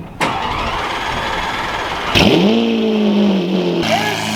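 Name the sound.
Lamborghini Aventador engine starting with FI exhaust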